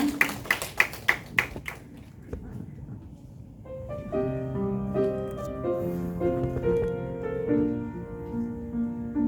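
A church congregation claps in a short burst of sharp, distinct hand claps for about two seconds, then falls quiet as sustained keyboard or organ music begins and carries on.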